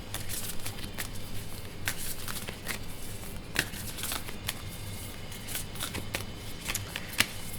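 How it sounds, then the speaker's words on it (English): Oracle cards are shuffled by hand, producing soft, close riffling and flicking with occasional sharper snaps and a low steady hum beneath, no voices. "I just want to leave you with a oracle card pull"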